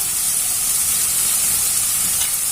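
Ginger garlic paste frying in a pan, a steady bright sizzle and hiss that holds evenly for a couple of seconds, close and moderately loud with no voices.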